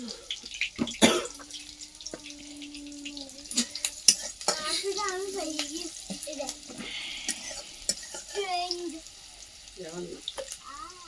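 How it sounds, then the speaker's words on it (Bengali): Onion frying in oil in a wok, with intermittent sizzling and stirring scrapes, clattering utensils and a cough, mostly under conversation. "মাসি কড়াই পেঁয়াজ আর তেল দিয়ে দিয়েছে"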